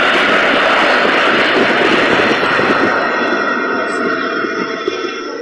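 A Boeing 747 jet engine roars loud and steady, a dense broadband rush that holds constant throughout with no break.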